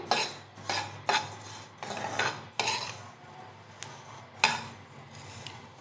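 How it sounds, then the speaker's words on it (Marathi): Sesame seeds roast in a kadhai over medium gas. A faint, close crackle runs beneath repeated scraping strokes of a spoon against the pan, and the stirring sets an uneven rhythm of about a stroke every half second to second, with no talking. "आपल्याला कळतं की आता हे तीळ भाजलेले आहेत आणि चटचट असा आवाज येतो"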